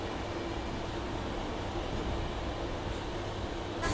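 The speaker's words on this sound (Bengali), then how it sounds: "হাওড়া স্টেশনের আউটারে অনেকক্ষণ দাঁড়ানোর পর ছেড়ে দিল আমাদের ট্রেনটি হাওড়া স্টেশন থেকে" A Howrah–Digha local train pulling out from Howrah station makes a steady, even rumble with broad hiss throughout, heard from inside the train with no speech.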